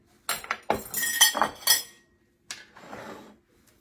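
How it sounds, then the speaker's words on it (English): Spoon scraping and clinking against a pot while cream cheese is mashed, several quick clattering strokes, a short pause, then a softer scraping burst, close and alone. "Still mashing up some of that cream cheese."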